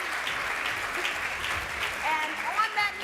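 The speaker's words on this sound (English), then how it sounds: "Let's give them a round of applause." Audience applause in a conference plenary session, a moderate wash of clapping under a voice talking, fading toward the end.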